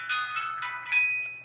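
A phone ringtone chirps in a series of bright electronic tones, fairly soft and near, with no talking over it.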